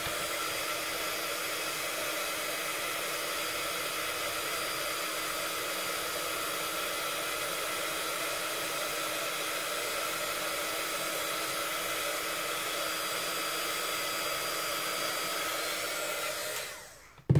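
A paint spray gun hisses steadily while applying a white-wash finish, a loud continuous airy rush that holds evenly for about sixteen seconds and then cuts off abruptly.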